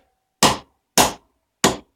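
Three sharp, loud mallet blows strike an axle to drive it out of a motorcycle clutch hub, evenly spaced about half a second apart, each a crisp metallic impact with a short decay.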